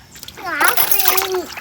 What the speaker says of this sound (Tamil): கழுவியாச்சு எடுத்துக்கலாம். மீன் கழுவியாச்சு.